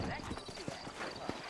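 Horse hooves clip-clop in the Western video game Red Dead Redemption, several quick, faint hoofbeats in an uneven rhythm over a short moment, with a voice talking over them.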